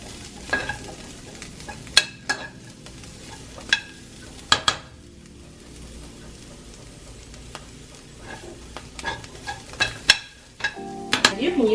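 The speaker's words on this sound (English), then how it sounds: "And then let them cook a few more minutes to get the seasoning in" Spiced chickpeas sizzle in a skillet, a soft continuous frying hiss broken by repeated sharp scrapes and clinks of a utensil stirring against the pan.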